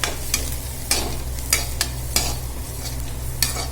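Pasta food cooking in a pan hisses and sizzles steadily up close, with a spoon stirring and scraping in periodic clinks about every half second, with no voices.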